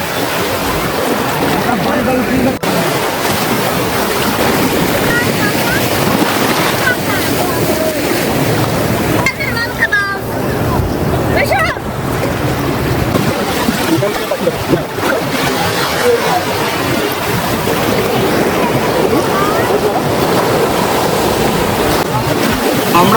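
Sea surf at Old Digha beach during high tide, a continuous loud wash of breaking waves with wind buffeting the microphone throughout.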